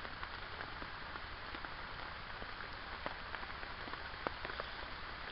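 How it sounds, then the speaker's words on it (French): Rain falls steadily in a dense, even patter, with scattered louder drops tapping close by; faint and continuous throughout. "je sais pas si vous entendez la pluie qui tombe."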